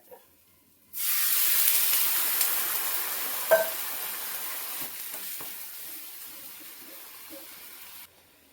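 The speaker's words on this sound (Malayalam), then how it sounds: "ചിക്കൻ അതിലേക്ക് ഇടുകയാണ്" Chicken pieces dropped into a hot pan for a chicken curry burst into a loud, steady sizzle that starts abruptly and slowly fades while it continues to fry.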